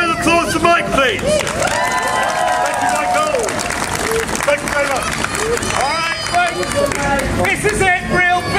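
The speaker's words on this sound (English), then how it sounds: "Ladies and gentlemen, a round of applause for Mike, please." Crowd applauding and cheering at a live comedy night during a festival of light, steady clapping with hubbub filling the whole stretch, mixed with loud voices and whooping.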